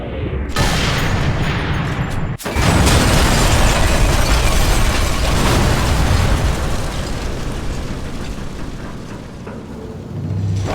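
A loud, sustained explosion from a mine blast destroying a tank in the video game Sniper Elite 3, a sharp burst followed by a long, dense roar and rumble that slowly fades, with no talking.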